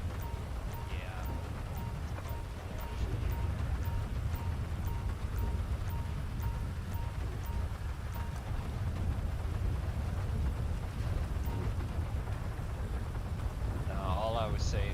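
Steady rain roars across the whole clip as a dense, constant wash, with faint other sounds surfacing briefly near the end.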